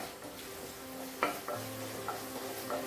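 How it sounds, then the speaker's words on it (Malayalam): Onion masala with chopped onion, chilli and curry leaves sautéing in a pan on an Indian stove, a steady soft sizzle broken by a few stirring scrapes and light clinks of the spatula against the pan. "ഒന്ന് വഴറ്റി കൊടുക്കണം. ഇതിൻ്റെ പച്ചമണം ഒന്ന് പോയി കിട്ടണം."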